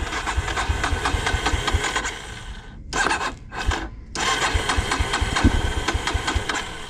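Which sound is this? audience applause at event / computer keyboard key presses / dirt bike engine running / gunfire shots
dirt bike engine running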